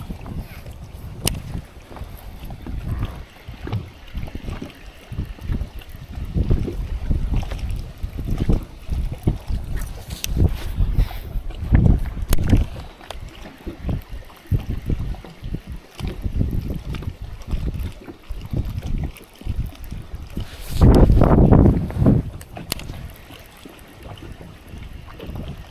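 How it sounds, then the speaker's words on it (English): Cold wind gusts across a fishing boat in winter as a cold front pushes in, a steady rumbling buffet against the microphone with a stronger surge near the end. "That wind is cold. That cold front is pushing in hard."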